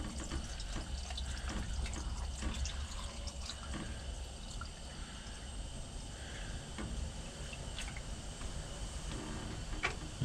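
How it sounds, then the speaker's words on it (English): Water pours steadily into a cooking pot for broth at a campsite, a continuous close, splashing fill with faint drips and no talking throughout. "Add some water for my broth."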